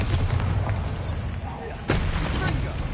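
A Bombarda spell goes off in Hogwarts Legacy on PS5: a sharp, loud blast cracks out near the end over a dense, rumbling wash of game noise.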